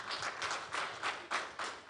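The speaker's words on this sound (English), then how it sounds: "Can you again clap hands for yourselves?" Learners and teachers in the audience at a national reading competition clap their hands, producing a short, scattered burst of claps that is moderately close but fairly quiet in a room.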